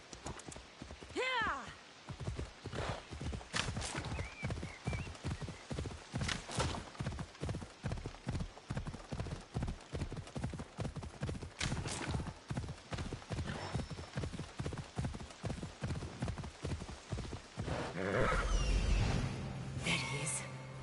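Horse hooves clip-clop in a brisk, even rhythm, loud and close and sustained throughout, with a voice speaking briefly at the start and a few other sounds late on.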